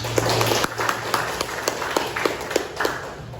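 A class of students clapping their hands in a classroom, a steady run of scattered claps of moderate loudness with no voices over them.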